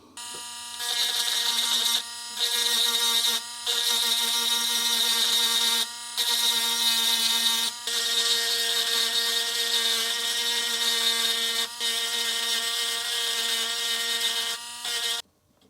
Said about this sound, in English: Just grind away a little bit of the metal